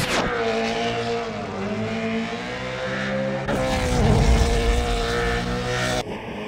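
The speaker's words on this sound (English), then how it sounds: "The Hoonigan rally driver custom built this 1965 Ford Mustang into this beast and then took it out onto the streets of LA." Ken Block's custom-built 1965 Ford Mustang rally car tearing through Los Angeles streets, its engine roaring loud and steady with shifting revs and a harder surge midway before cutting off abruptly near the end.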